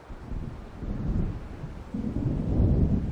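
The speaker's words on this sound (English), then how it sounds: "It seems there's a storm coming." Low rolling thunder from an approaching storm near the sea in Alan Wake Remastered, a steady rumble that swells toward the end with wind and rain beneath, no voices.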